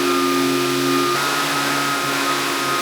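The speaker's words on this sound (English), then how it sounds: "I'll be putting it on this sander here. So now all you need to do is just start sanding." A power sander fitted with 240-grit sandpaper works on door trim with a steady, loud whirring hum and broadband hiss, its tone shifting slightly partway through.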